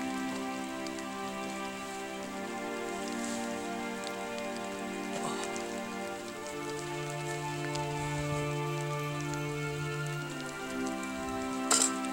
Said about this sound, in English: He awakened to a cold, drizzling rain.